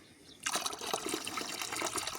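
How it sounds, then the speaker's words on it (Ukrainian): Milk pours from a one-litre carton into a container of water, beginning suddenly as a close, steady gurgling splash that continues without a break and with no voices. "У мене пакет літровий. Якраз пів пакета вилів."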